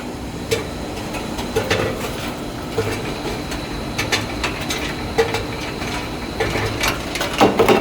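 A 3-ton tube ice machine running, a steady mechanical hum with repeated knocks and clattering bursts as ice pieces drop from the outlet, close and fairly loud.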